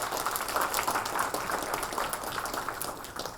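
Audience at a club gathering applauds as a speaker walks up, a fairly even, moderately loud patter of many hands clapping throughout, with faint voices mixed in.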